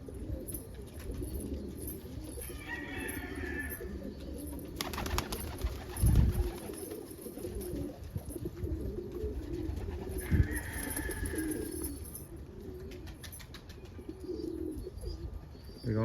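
Roller and homer pigeons, a blue barless roller among them, coo in low, repeated throaty phrases from a chilly loft, steady and close throughout the clip with occasional rustles and a faint thud.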